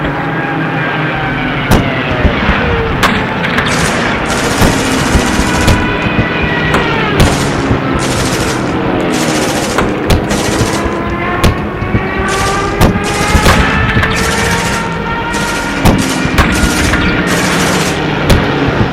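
German flak guns fire amid bursting shells in a dense, loud wartime barrage, with sharp reports and booms repeating over a continuous rumble throughout.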